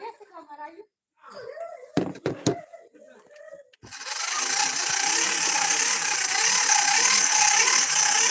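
A blower fans a charcoal and wood cooking fire at a desert picnic, starting as a loud, steady rushing roar after several seconds of talk and clattering.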